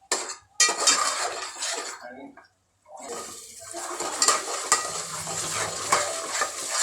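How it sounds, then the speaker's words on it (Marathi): Mutton curry masala sautéing in a pan until the oil separates, with steady sizzling and repeated scraping stirs of a spoon against the pan, briefly dropping out before resuming at a close, even level. "याला चांगलं तेल सुटेपर्यंत परतवायचं आहे"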